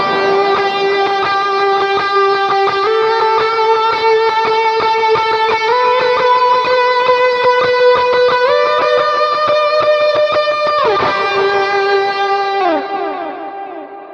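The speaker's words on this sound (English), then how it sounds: "let's just try the lead sound, okay, and let's see what we can get." Electric guitar lead line played through a Vox AC30 preset with moderate drive and reverb: sustained, singing distorted notes moving stepwise in a continuous melodic phrase, loud and up close, with a held note fading out at the end.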